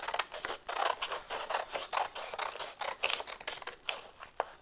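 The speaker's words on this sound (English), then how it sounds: "The second thing that I'm going to do is cut off this excess white. So I'm just going to use scissors." Scissors snip repeatedly through excess white sublimation paper, making close, crisp rhythmic cuts and rustles in quick succession with no talking.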